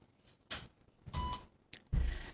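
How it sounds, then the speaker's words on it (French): A game show buzzer gives a short, sharp electronic beep in the middle of a Réunion Creole TV broadcast, set between brief bursts of clatter and noise in an otherwise quiet moment. "Tiens, on va appuyer sur le buzzer."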